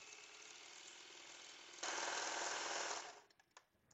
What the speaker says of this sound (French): Je baisse le pied presseur et là, je vais piquer mon petit côtelet, un jersey côtelet.